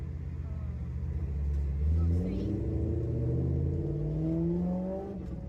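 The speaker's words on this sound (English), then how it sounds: "I'm sorry if my car is loud." A loud manual car drives along, its engine droning steadily from inside the cabin, pitch climbing through each gear and dropping as the stick shift changes.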